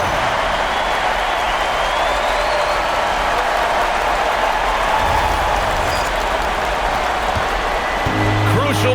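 An arena crowd in an NBA 2K26 basketball game roars after a slam dunk by Collier, a loud sustained wash of cheering and applause that carries on throughout, with a brief sharper burst near the end.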